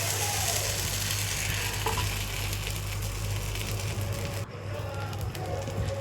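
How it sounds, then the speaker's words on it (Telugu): Salted rice dosa batter spreads onto a hot griddle pan, a loud dense sizzle that runs nearly unbroken with faint scraping, close up and without speech. "వేడిగా ఉన్న పెనం మీద దోశ వేసుకోవడమే."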